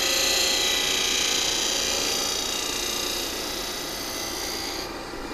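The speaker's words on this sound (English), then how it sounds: "Put my skew and smooth that up so I don't have to sand so much." A skew chisel scrapes mesquite wood on a lathe in a loud, continuous, hissing shave that eases off slightly toward the end.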